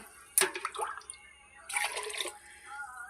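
Water is poured out at home in two short, faint splashing pours separated by a pause, in an otherwise quiet room.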